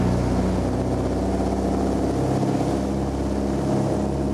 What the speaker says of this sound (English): You can hear the sound of the engines now as they rev right up, and this is a takeoff roll.